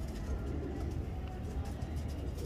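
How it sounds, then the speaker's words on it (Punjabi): A pigeon, a cross of three or four breeds, coos softly in short repeated low notes against a faint background hum, with no talk. "ਲਓ ਜੀ, ਮਾਸ਼ਾਅੱਲਾ ਕਬੂਤਰ ਦੇਖੋ।"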